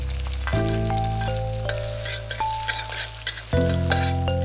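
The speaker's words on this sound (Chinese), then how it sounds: "先爆香大蒜、生姜片、干辣椒段、" Garlic, ginger slices, dried chili pieces and Sichuan peppercorns sizzle in hot oil in a wok, a loud steady crackle with occasional sharper spatters and stirring clinks, no talking.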